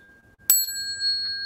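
A single bell strikes sharply at a Buddhist sutra lecture and rings on with a clear sustained tone, fading slowly amid a quiet room.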